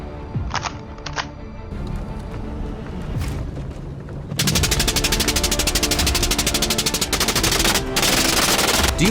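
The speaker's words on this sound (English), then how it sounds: "Do you hear the sound of gunshots echoing through the forest?" Gunfire rings out in a forest, scattered single shots at first, then a sustained rapid burst of loud, closely spaced reports that keeps going to the end.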